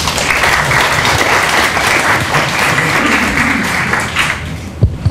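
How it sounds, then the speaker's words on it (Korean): Audience applause at a Korean forum in Yeongcheon on the Joseon envoys: steady, dense clapping from a large crowd, loud and even for about four seconds, then thinning out into a few scattered claps at the end. "박수로 해주십시오."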